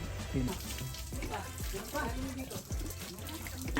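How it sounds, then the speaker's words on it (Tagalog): Water heating to a boil on a farm, a faint bubbling and hissing churn heard under people chatting nearby. "Nagpapakulo na ng tubig."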